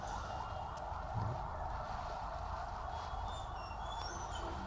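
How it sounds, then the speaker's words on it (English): Ambulance sirens wail faintly in the distance over a steady city rumble and broadband background noise, with no voices. "now the sirens are working,"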